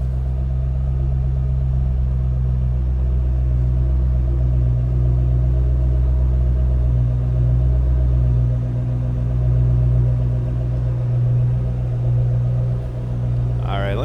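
A 2007 Ford Mustang Shelby GT500 convertible idles steadily from behind the car, a loud, constant low rumble with a faint rise and fall and no talking over it.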